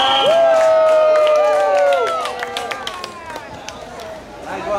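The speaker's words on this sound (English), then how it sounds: "You let them cheer." A crowd cheers and whoops loudly for the first couple of seconds, with a long rising shout, then fades to scattered voices and sharp claps in the background.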